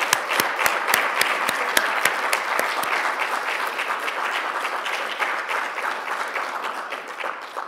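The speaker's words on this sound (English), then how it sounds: "I'd love a round of applause for our organizers" Audience applause for the organizers at a Joyce literary conference, a dense, steady wash of many hands clapping with sharp individual claps standing out near the start, sustained at full strength and slowly thinning toward the end.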